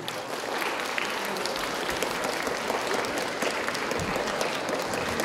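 Dense, even applause from a concert audience welcoming a young performer to the stage, a continuous crackle of many hands clapping at steady loudness.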